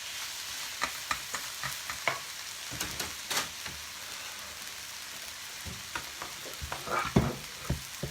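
A wooden spoon stirs onions sizzling in a pan as they caramelise, quiet scraping knocks over a constant frying hiss, close and unaccompanied by speech.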